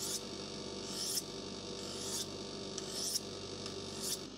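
Knife edge honed on a musat steel rod: about five rhythmic, evenly spaced metallic rasping strokes, each a short bright scrape, close and fairly quiet with no talk.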